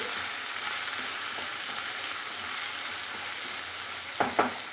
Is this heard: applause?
no